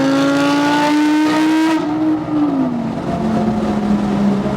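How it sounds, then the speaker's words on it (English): A loud Audi R8 engine revs high and steady during a parade lap at Circuit of the Americas, the pitch climbing then dropping as it shifts, with a dense roar of other engines behind. "That R8 sounds amazing."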